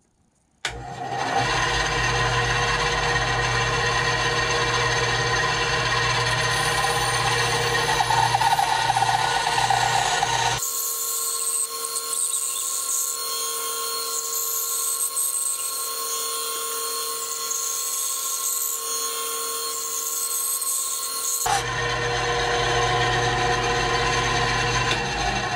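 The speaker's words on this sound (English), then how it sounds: "So I'm gonna cut these off with the bandsaw, just the bulk." A bandsaw cuts the bulk off thick wooden fins for a white crappie fish carving, running with a steady high whine for about twenty-five seconds. The tone changes in the middle as the blade bites into the wood, then returns to the idle hum.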